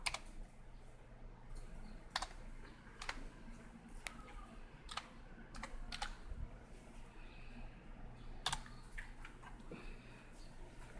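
Scattered single clicks from a computer keyboard come at an irregular, unhurried pace, faint and close over a low room hum, with no talking.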